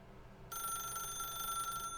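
In the video game The Stanley Parable: Ultra Deluxe, a telephone starts ringing abruptly with a steady, bright electronic tone that holds clear and close.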